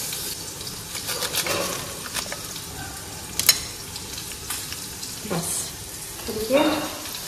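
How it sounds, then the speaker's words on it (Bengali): Okra frying in a home kitchen pan gives a soft, steady sizzle through the clip, with a few scrapes and clinks of stirring and a brief louder clatter near the end. "ভেন্ডি ভাজাটা বসিয়ে দিয়েছি"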